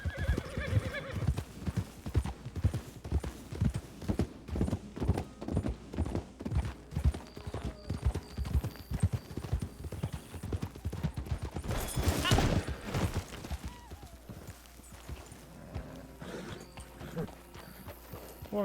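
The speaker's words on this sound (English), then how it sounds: "You just bumped me twice on your horse." Horse hooves clip-clop in a steady rhythm across a Red Dead Redemption 2 roleplay server set in 1903, loud and close, with a whinny and a brief burst of gunfire partway through before the hoofbeats fade.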